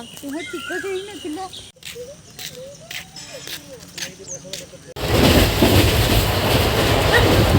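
A train pulls into a station in India, its loud broadband rumble and rattle swelling in the final seconds after quieter stretches of voices, chirping birds and ambient platform noise.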